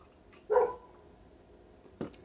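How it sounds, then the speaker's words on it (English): A dog outside barks twice, faint and somewhat distant, the two barks about a second and a half apart in an otherwise quiet room. "Dog's going off outside"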